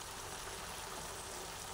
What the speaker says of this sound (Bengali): মিডিয়াম সাইজের একটা বাটি, হাফ বাটি জল দিয়ে দিলাম।